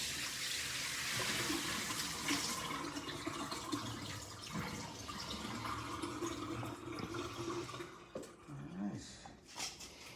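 Cooked pasta for cold sesame noodles is drained in a sink, water pouring in a steady rushing flow that tapers off near the end.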